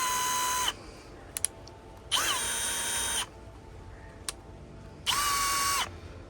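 Brushless cordless drill runs in three separate bursts, each a steady high whine lasting about half a second to a second, with brief pitch changes at start-up and quiet gaps with small clicks between them.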